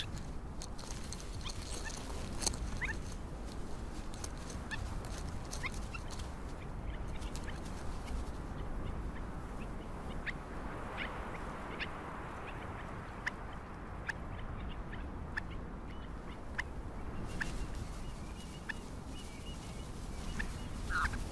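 Newly hatched stone curlew chicks on the Canary Islands call in a steady stream of thin, high peeps over low outdoor background noise, with no talk.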